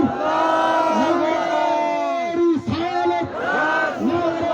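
A large crowd at a religious welcome gathering roars Nara-e-Takbir slogans in unison, loud, sustained bellowing waves that swell, dip briefly, then surge again.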